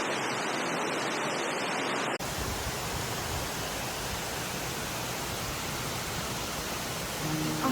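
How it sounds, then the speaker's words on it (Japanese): Amagoi waterfall, the Rain-Prayer Falls in Kamiyama, Tokushima, roars as a steady broad wash of falling water, loud and close; a brief rustle comes before the full roar takes over. "雨乞いの滝。"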